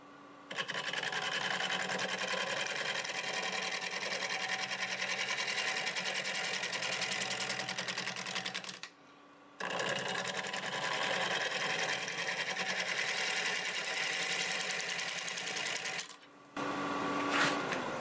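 A wood lathe at about 620 RPM turns an English walnut root ball with a freshly sharpened 5/8 bowl gouge. The steady whirring, cutting drone runs loud and close, stops briefly midway, then resumes.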